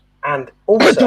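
A single sharp, breathy sneeze bursts out right after a man's brief spoken phrase, close to the microphone, during a football match discussion.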